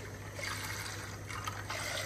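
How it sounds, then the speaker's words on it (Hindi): Water poured into a pan while making custard, a faint steady trickle over a low background hum. "थोड़ा सा पानी भी ऐड कर लीजिएगा"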